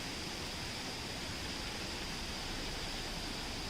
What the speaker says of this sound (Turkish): Evet, bahsettiğim şelalenin oraya geldik.